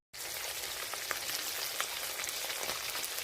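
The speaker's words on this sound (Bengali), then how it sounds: "মাছ ভাজা হচ্ছে এখন।" Fish fries in a pan with a loud, steady, close sizzle that starts abruptly and keeps crackling evenly, with no talking.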